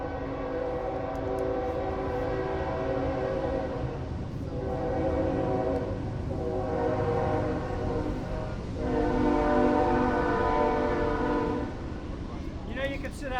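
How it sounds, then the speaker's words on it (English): A train passes outside a building in Norcross, its horn sounding in long, loud, repeated blasts over the heavy rumble of rail cars, with people's voices faintly beneath. "you get the trains, and there it goes."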